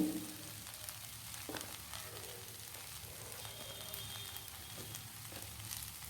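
Steady sizzling of spring onions being stir-fried in a pan for paneer fried rice, a continuous hiss with faint stirring scrapes underneath.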